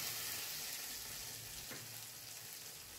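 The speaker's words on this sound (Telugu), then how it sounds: "వేడివేడి నెయ్యి జీడిపప్పు వేసుకున్నాం కదండి" Hot ghee with fried cashews sizzling as it is poured into almond kheer, a steady broadband frying hiss lasting the whole time, close and fairly quiet, with no talking.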